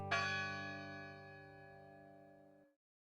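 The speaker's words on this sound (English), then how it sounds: "The 125-pound bell strikes hourly" A single 125-pound chapel bell is struck once, a bright clang ringing into a sustained, slowly fading tone that stops abruptly after about two and a half seconds.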